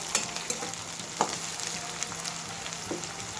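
Sliced ginger sizzles in hot oil in a pan for tomato upma, a steady close frying hiss broken by a few light stirring scrapes.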